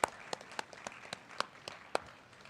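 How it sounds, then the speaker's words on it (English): An audience at a conference's closing valedictory session applauds: a sparse, faint patter of separate handclaps, irregular and somewhat distant, with no voices. "please join him and big applause for him"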